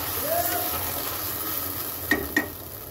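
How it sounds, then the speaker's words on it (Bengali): Cumin powder stirred into a simmering, bubbling fish curry for pabda jhal with potatoes and brinjal, a constant close sizzle with two sharp spoon knocks against the pan near the end. "জিরার গুঁড়োটা দেওয়ার পর মিক্স করে দেব।"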